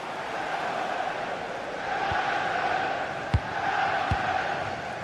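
Stadium crowd in a football video game, a broad continuous roar of cheering at moderate distance, with a couple of brief thuds partway through.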